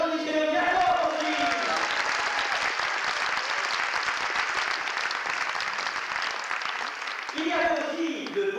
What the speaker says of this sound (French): Alors applaudissez le bien fort aussi.